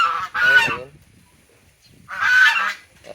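Goose on a small backyard farm gives two loud, close honks separated by a short quiet pause, each a harsh nasal call with strong harmonics.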